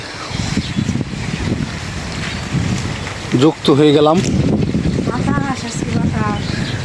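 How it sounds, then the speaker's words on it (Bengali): Strong early-morning wind gusts outdoors on a cloudy, drizzly day, a rough, broadband rush buffeting close to the microphone while a voice speaks briefly in the middle. "অনেক বাতাস বইতেছে ভোরবেলায়"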